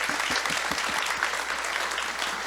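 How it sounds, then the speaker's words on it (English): Audience applause for a panel at a climate summit showcase, a dense, steady roar of many hands clapping close by and continuing evenly throughout without speech. "Give a big round of applause to our panelists."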